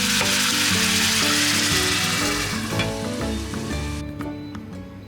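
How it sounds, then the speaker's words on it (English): Beef and chive potstickers fry and steam in a lidded pan with water added, giving a steady broadband sizzle and hiss throughout, with tonal background music layered over it. "add in room temperature water until it covers approximately a quarter of the pot stickers and put the lid on to steam the pot stickers"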